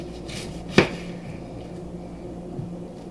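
A knife cuts through half an onion on a cutting board, one sharp, close chop standing out against a quiet kitchen, with a faint softer knock after it.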